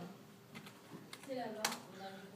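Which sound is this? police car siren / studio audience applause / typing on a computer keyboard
typing on a computer keyboard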